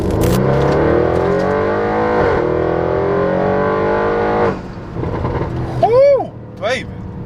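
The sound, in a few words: 2018 Audi RS7 engine revving while driving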